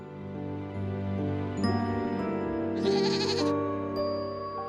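Goats bleat in an animated children's bedtime story, a couple of loud close wavering bleats over a soft musical background, with a brief bright jingle between them.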